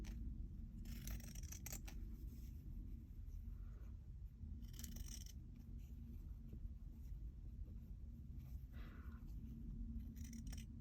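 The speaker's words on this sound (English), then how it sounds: "I'm going to take my Ginger scissors and we are going to cut along this edge." Ginger scissors snip through fabric in a few short, quiet crisp cuts spaced apart, over a low steady rumble of background noise.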